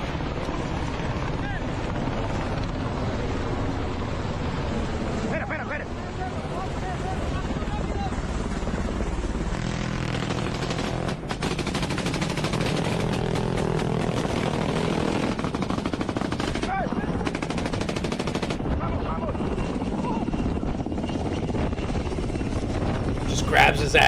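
A helicopter roars throughout a combat evacuation in Ukraine, its loud, continuous rotor and engine noise mixed with bursts of gunfire and shouting voices.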